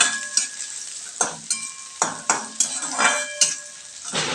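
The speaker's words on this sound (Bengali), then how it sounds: "দেখতে পাচ্ছ সুন্দর ভাজা ভাজা হয়ে যাচ্ছে" Something crisping in a frying pan while cooking kalmi stem chorchori: a soft sizzle broken by about eight rhythmic scrapes and knocks of a spatula against the pan, close and without talk.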